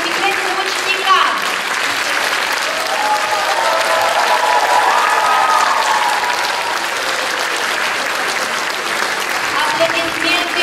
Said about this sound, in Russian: А теперь ваши полные продолжительные аплодисменты нашим замечательным ученикам.